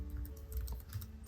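Quick, even keystrokes patter on a computer keyboard while a page layout is typed, a close, steady run of soft clicks with no voices.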